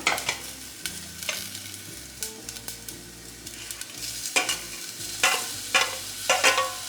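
Crushed garlic, black pepper and shallots sautéing in a pan for coconut milk rasam: a close sizzle punctuated by repeated scraping stirs that grow busier toward the end, with no voices.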